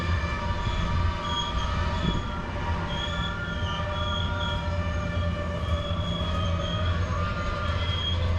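A continuous high-pitched metallic squeal of freight train brakes on a steep downhill grade at Cajon Pass, steady and loud, with a low rumble of rolling railcars underneath throughout.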